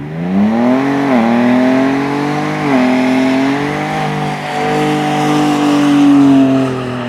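Engine of a Raptor build car with a mid-pipe installed, revving on a dyno: loud, close, sustained tone that climbs, dips briefly twice, then holds a steady high rev before easing, with no talk.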